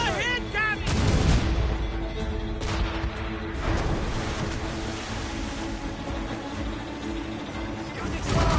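Ship cannons firing in a pirate video game on PS4, heavy booms and rumbling blasts amid ocean surf and wave noise, with shouted voices over the battle throughout.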